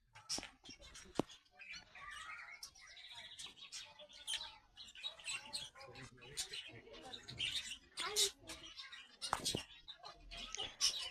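Many small birds chirp and tweet busily nearby in a botanical garden in Gütersloh, overlapping quick calls in a lively, continuous chatter.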